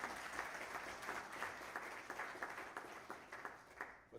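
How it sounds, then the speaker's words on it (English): A conference audience at an opening ceremony gives a round of applause, many hands clapping steadily at a fairly distant, soft level before tapering off near the end. "Please give yourself a round of applause."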